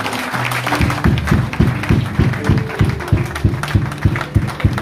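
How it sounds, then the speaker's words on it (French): A church congregation applauds with rhythmic clapping, roughly two claps per second, over a low drone. The clapping is steady, moderately loud and fairly close. "On acclame Jésus."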